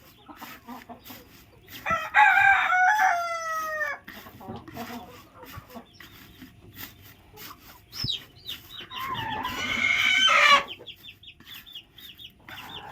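Chickens cluck and a rooster crows in two loud bursts around a hen sitting on a clutch of eggs being hatched, with quieter clucking and farmyard bird calls between and after the crows.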